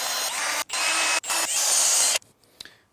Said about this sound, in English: Time to countersink.